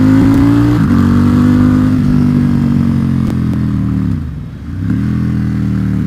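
Loud, close engine of a Ducati XDiavel fitted with a quick shifter, a steady low rumble that holds through fast gear changes, dips briefly near the end, then pulls back up.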